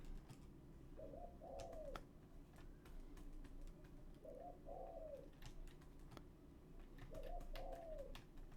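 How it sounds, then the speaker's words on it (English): A dove coos outside a window in three separate phrases spaced a few seconds apart, soft and moderately distant over a steady low background hum. "I don't even know what kind of bird it is, but it's definitely not an owl"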